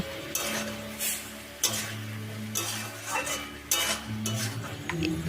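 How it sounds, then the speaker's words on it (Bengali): Pre-fried prawns tumble into a pan of prawn chorchori with pui shak and pumpkin, followed by repeated spatula scrapes and stirring clatter over a low sizzle, moderately close. "এবার এর মধ্যে আগে থেকে ভেজে রাখা চিংড়ি মাছটা দিয়ে দেব"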